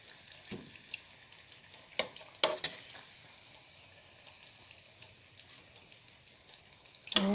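Ripe banana fritters sizzle in hot oil with a steady, soft crackle, punctuated by a few sharp clicks and taps nearby.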